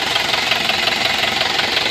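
The 2000 Isuzu Panther LS diesel engine runs nearby with a rapid, even knocking clatter over a steady mechanical hum, loud and unbroken, with no voices.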